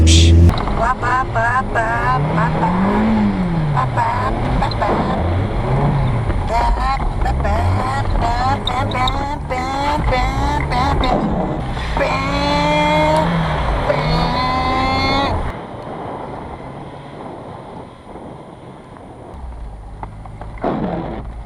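A Mazda Miata with newly fitted brakes drives through corners, its engine rising and falling in pitch with each shift and revving hard before dropping off to a quieter idle near the end, with talking heard over the engine.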